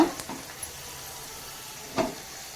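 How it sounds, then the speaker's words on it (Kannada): Raisins frying in hot ghee for a festive avalakki payasa, giving a faint, steady sizzle with a couple of soft pops and one sharper clink near the end. "ಒಣ ಹಾಕಿ ಫ್ರೈ ಇದು ಫ್ರೈ ಮಾಡ್ಕೊತೀನಿ ನೋಡಿ ತುಪ್ಪದಲ್ಲಿ"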